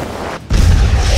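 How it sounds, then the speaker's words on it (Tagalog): An incineration cannon blast bursts inside a giant centipede monster in an anime fight, a sudden heavy boom after a brief drop in sound, followed by a loud, sustained rumbling roar. "Pumutok ang loob ni Elder Centipede."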